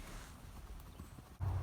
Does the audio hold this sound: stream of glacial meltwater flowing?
no